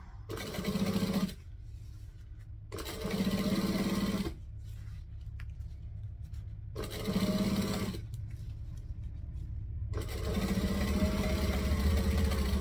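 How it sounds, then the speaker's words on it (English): A sewing machine top stitching through folded vinyl on a bag with piping, running in several steady bursts of about one to two seconds, separated by short pauses, each burst a loud, close, even mechanical whir. "I'm just going to fold the top back and top stitch on the vinyl."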